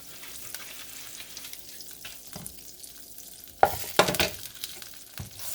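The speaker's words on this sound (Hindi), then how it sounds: "वेजिटेबल्स को सॉटे करने के लिए बटर की ज़रूरत होगी" Vegetables sauté in butter in a pan, giving a soft background sizzle broken by a few sharp bursts of scraping and stirring, with no talking.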